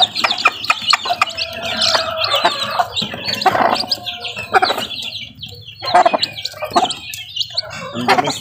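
Mother hen with chicks, clucking repeatedly in short bursts close by, with high thin chick peeps scattered between the clucks on a farm.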